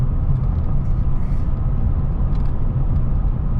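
A 1976 Ford F150 pickup truck drives along the road, its engine and tires giving a close, steady low rumble that stays constant throughout the short stretch, with no one talking.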